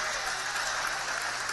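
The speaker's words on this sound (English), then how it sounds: "Kyrie Jenneret getting a nice round of applause from the fans here" Fans at a York at Northeastern college basketball game applauding an injured player, a brief, even wash of clapping from the crowd with no clear voices on top.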